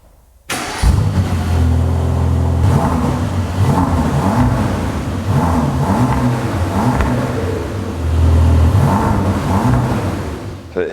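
Mercedes-AMG GT Black Series with a flat-plane crank V8 starts up, then revs repeatedly in loud, close rising and falling pulls with a cleaner, less burbly tone, heard alone.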